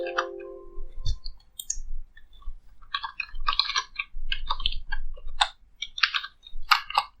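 Keystrokes on a computer keyboard while entering PLC program commands, clicking in irregular bursts and short runs, fairly close and moderately loud, with no talking.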